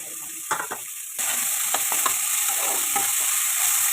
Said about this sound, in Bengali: কাঁচা লঙ্কাটা দিয়ে পেঁয়াজ লঙ্কা দিয়ে দেবো